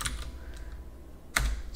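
Computer keyboard being typed on while setting up a Void Linux install, heard as a few scattered, close, crisp key clicks with quiet pauses between them.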